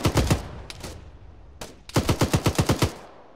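Close automatic gunfire in the military shooter Arma 3, with a short burst of rapid shots, a brief pause with a couple of single cracks, then a longer even burst of about eight evenly spaced loud shots.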